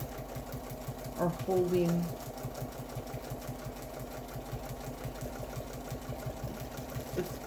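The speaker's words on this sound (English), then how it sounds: "I will stop the machine if I need to reposition my hands" Domestic sewing machine quilting a pantograph pattern, a rapid steady mechanical stitching rhythm close by throughout, with a brief spoken phrase over it.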